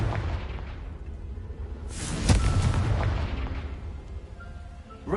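A Confringo spell blast in a Harry Potter game: a sharp, heavy explosive boom that bursts loudly, then rumbles and fades over a few seconds.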